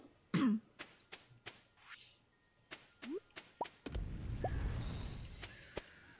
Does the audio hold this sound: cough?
yes